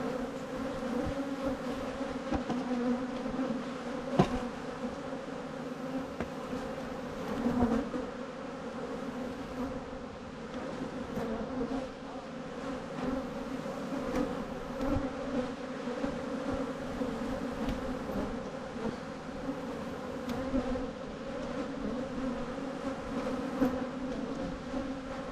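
A continuous, dense drone of many honeybees fills a commercial bee yard that produces nucs, steady and moderately loud throughout with occasional closer buzzes and no voices.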